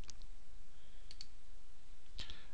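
A computer mouse clicks a few times, with a crisp click near the start, a quick pair about a second in, and another double click near the end, close and sharp over a quiet room hiss.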